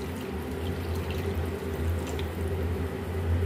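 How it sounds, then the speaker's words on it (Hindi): A steady stream of water pours into a pan of kofta curry cooking with tomatoes, a continuous close splashing fill lasting the whole stretch with no talk. "अब इसमें हम 1 गिलास पानी डालेंगे"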